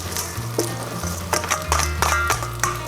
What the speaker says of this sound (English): So now that the ginger and garlic is cooked, I am going to toss my washed